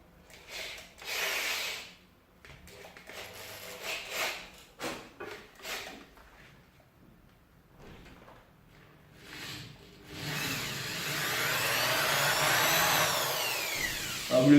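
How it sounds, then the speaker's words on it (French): Power drill boring into the plastic case of a Nintendo Famicom console, several short bursts of drilling and scraping followed by a sustained, louder whirring run near the end, close and with no talking. "vous ne laissez pas emporter avec la perceuse, parce que sinon vous allez aller trop loin"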